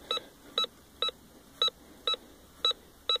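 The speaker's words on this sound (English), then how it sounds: "If you ever want to know what a license plate reads up like on this Bounty Hunter 2200, this is it." A Bounty Hunter 2200 metal detector sweeping over a license plate gives seven short, evenly spaced electronic beeps, each sharp and clear above faint background hiss.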